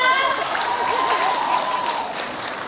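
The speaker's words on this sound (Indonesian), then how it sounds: "Tepuk tangan kita." Audience clapping at a Balinese-language women's macecimpedan riddle competition in Jagapati village, a steady burst of applause that fades toward the end.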